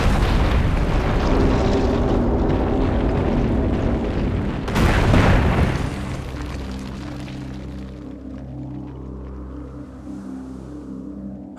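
In Metroid Prime Remastered, a missile fires and explodes with a heavy boom and rumbling blast, then fades into a low droning hum. No one speaks.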